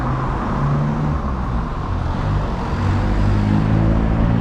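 Steady engine rumble from a minibus mixed with road traffic near the Muar ferry terminal in Malaysia, a continuous close drone with no pauses and no voices.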